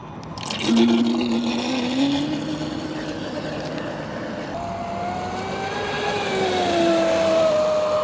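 A Sonicwake RC boat fitted with a Hydra X8 ESC runs on open water, its motor giving a steady whine that climbs and dips in pitch as the throttle changes, with a wash of water noise underneath and no talking.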